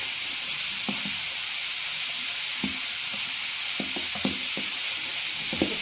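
Pumpkin pieces for dosa frying in a pan give a steady, even sizzle and hiss throughout, broken by a few soft clicks and scrapes as they are stirred.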